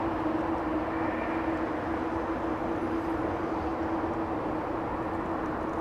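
An Avianca airliner taxis at Los Angeles International Airport, its engines giving off a steady, continuous distant roar with a faint tonal hum throughout.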